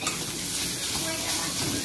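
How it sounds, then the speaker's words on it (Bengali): Grated potato fries in a pan with steady, close sizzling and hiss, a continuous crackle of oil with faint stirring. "আলু কিছুক্ষণ ভেজে নিয়েছি"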